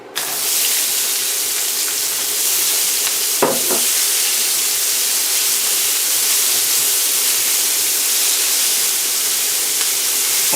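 Onions sizzling in a hot pan with grapeseed oil for Mongolian beef, a loud, dense hiss that bursts up at once and holds steady, with one brief stir partway through.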